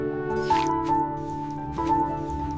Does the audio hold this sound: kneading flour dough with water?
yes